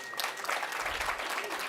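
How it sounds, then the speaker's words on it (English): Audience applause at a Washington, DC discussion event, a brief steady patter of many hands clapping at moderate level, with a faint voice underneath. "Give yourselves a round of applause"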